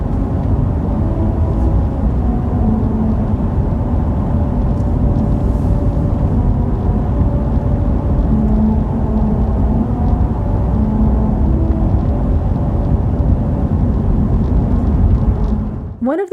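A car drives over the worn Albuquerque musical road on the eastbound side between mile markers 4 and 5, where grooves play America the Beautiful. Loud, steady road rumble from inside the car carries a faint tonal hum and stops abruptly at the end.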